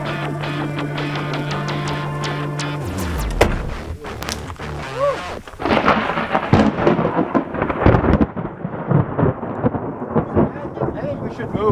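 Thunder booms and rolls from a lightning storm on a mountain, with heavy rumbling bursts in the second half beneath tonal, voice-like sounds.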